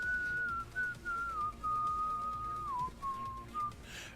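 Someone whistles a slow melody, a clear thin tone gliding between notes with short pauses, alone against quiet background.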